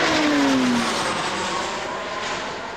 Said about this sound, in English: at 248 knots, maximum airspeed for the Beechcraft 1900D